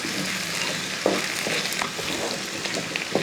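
Potato thoran frying in a pan for a Kerala lunch, steady close sizzle with scraping stirs and clinks of the spoon against the pan, no talking.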